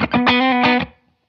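Veritas Custom Minimaster electric guitar on the middle pickup plays a short, snappy funk-style strummed phrase, bright and percussive, with a few quick chord hits that ring out briefly and then stop into silence.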